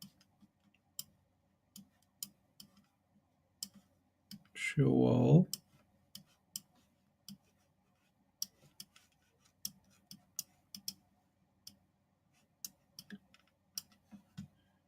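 Sparse, crisp computer mouse clicks tap out irregularly against near silence, with a brief burst of something in the middle.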